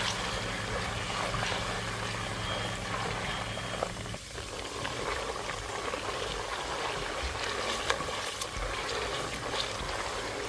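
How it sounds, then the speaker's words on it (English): Tomato paste sizzles and bubbles in hot oil in a pan for a Nigerian vegetable stew, a soft steady crackling fry with faint stirring, quiet and close. "I'm going to be adding my tomato paste. Fry it a little bit"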